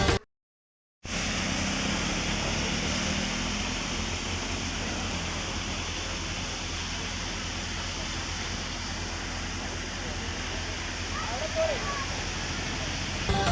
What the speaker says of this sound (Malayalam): പൈപ്പ് ലൈൻ പൊട്ടി അല്പസമയം വലിയ ജലധാര രൂപപ്പെട്ടത്